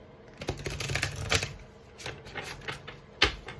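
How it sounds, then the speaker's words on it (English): A deck of tarot cards being shuffled by hand in halves, giving quick papery riffles and light taps in short bursts, close and fairly quiet. "I have to shuffle these right in halves"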